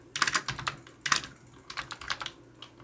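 Typing code on a computer keyboard, with close, crisp clusters of key clicks in short irregular bursts and brief gaps between them.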